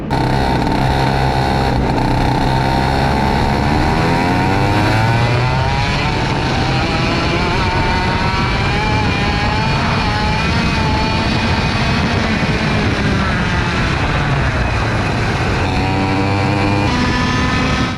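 Racing kart on a practice engine lapping a track at a USPKS kart event in Orlando: a loud, close, continuous engine drone whose pitch climbs and falls as it revs through corners, with no talking.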